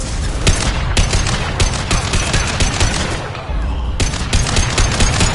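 Dense gunfire from Mass Effect 2, loud rapid bursts of shots cracking nearly nonstop with a brief lull midway, close and overwhelming.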